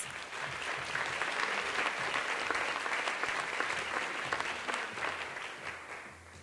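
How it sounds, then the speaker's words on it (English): An audience at an award ceremony gives a round of applause, dense sustained clapping that fills the room for several seconds before starting to taper off. "So let's give Gary a round of applause"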